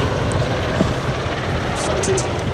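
Apache attack helicopter departing, a steady rotor and engine roar holding level throughout, with a voice talking over it.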